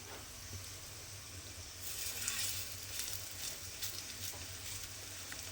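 Lentil and pea snacks fry gently in oil on low gas, a soft, even sizzle that swells slightly partway through and stays quiet and close.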